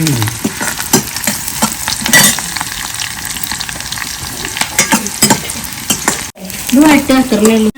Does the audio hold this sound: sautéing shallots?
yes